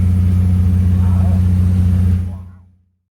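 A 1998 Chevy S10 four-cylinder with a FlowMaster FlowFX exhaust holds a steady, loud, low drone close by for about two seconds before it abruptly cuts off and fades.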